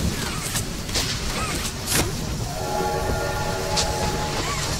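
In the video game Poppy Playtime, a train rolls along with a steady rumbling clatter while its horn sounds in a few short blasts. Most of the horn sounds early on, then a sustained tonal note comes through.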